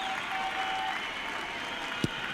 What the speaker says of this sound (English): the crowd giving him a generous round of applause